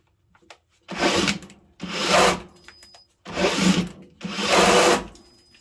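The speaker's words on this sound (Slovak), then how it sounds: "Metabo na druhej rýchlosti nemá na to, aby vyvrtalo otvor o priemere 65 mm." A Metabo SB 18LTX cordless drill bores a 65 mm hole in four loud bursts of about a second each, with a grinding, rasping cut and short pauses between them.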